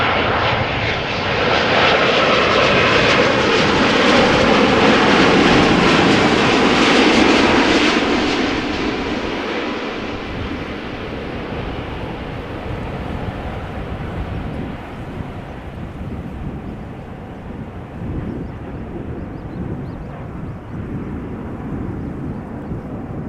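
A fixed-wing airliner at Amsterdam Schiphol rolls along the runway nose-high, its engines a loud, steady broadband roar close by that swells through the first seconds, then eases into a lower, fading rumble with light wind on the microphone.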